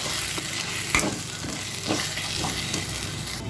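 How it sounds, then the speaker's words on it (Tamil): Goat liver with salt and masala being sautéed in a pan, steady close sizzling with a few sharp scrapes and stirring knocks of a spoon against the pan. "சேர்த்துட்டு வதக்கிடுவோம்"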